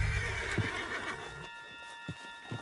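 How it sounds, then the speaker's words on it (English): A horse whinnies and hooves thud in the video game Red Dead Redemption, with a loud neigh at the start and a few heavy hoof hits after it. "Put Strauss on the back of John's horse"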